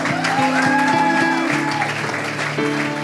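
A church congregation claps and cheers for Jesus, steady applause running throughout under a sustained musical tone from instruments or singing.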